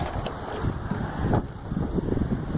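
Steady wind buffeting outdoors beside a 2021 Rockwood 2881 fifth wheel trailer, rumbling against the microphone in low gusts that swell and ease throughout, with no talking.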